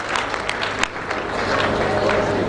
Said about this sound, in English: Let's clap that hand, because we are special in South Africa